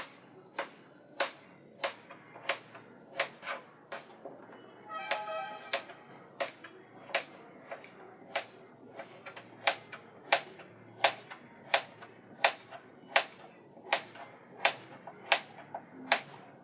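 A knife slices through bitter gourd on a cutting board, halving it and then cutting slices, in a steady series of sharp, evenly spaced chops, close and clear against a quiet room.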